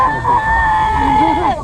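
A person lets out a sustained, high-pitched squealing voice imitating a guinea pig, wavering slightly, with a bit of lower vocal sound underneath.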